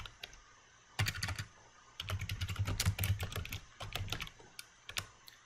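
Typing on a computer keyboard while entering text into a spreadsheet, with close, rapid clusters of key clicks in short bursts separated by brief pauses.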